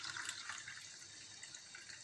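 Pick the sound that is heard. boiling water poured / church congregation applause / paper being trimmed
boiling water poured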